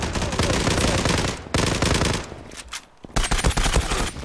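Rapid automatic gunfire in the online shooter Zula, loud bursts of machine-gun fire with a short pause midway, then renewed firing toward the end.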